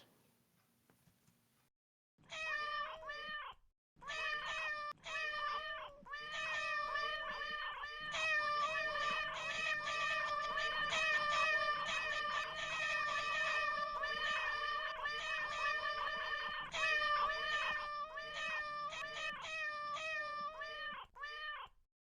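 A cat meows over and over, close and loud, in long whining and insistent calls, with a few brief gaps between bursts.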